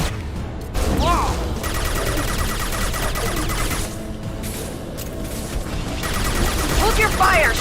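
Sci-fi gunfire in Mass Effect 2, a dense continuous barrage of crackling shots and impacts running through most of the stretch, mixed with bursts of game effects and music.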